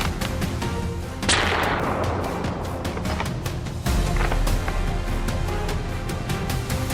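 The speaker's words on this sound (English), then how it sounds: "Just as expected, Leon swiftly took down the target with a series of precise shots" Rifle shots ring out during a wild boar hunt in snowy winter woods, a sharp loud crack near the start trailing into a long decay, followed by another heavy report partway through over a steady background rumble.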